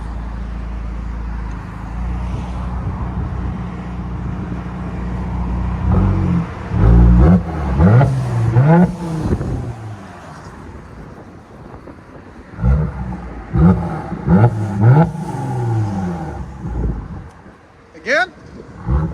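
Mercedes E400 with a 3.0L twin turbo V6 and modified exhaust idles with a low rumble, then revs up in repeated rising and falling sweeps, loud and close, with wind noise and a voice talking over part of it.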